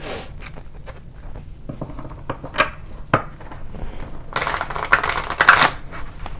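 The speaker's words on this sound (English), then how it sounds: "It's shuffling cards." An oracle card deck is shuffled on a tabletop during a tarot reading: scattered crisp card clicks and flicks, then a louder, denser riffling burst near the end, close and with no talk.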